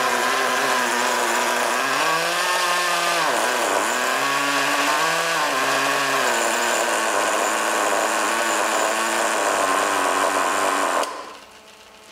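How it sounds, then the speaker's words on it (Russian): The nitro engine of a Traxxas Slash Nitro 2WD RC car idles loud and close with no voices, its buzzing pitch dipping and surging unevenly before cutting off near the end. "У него холостые неровные какие-то, он дергается сам по себе."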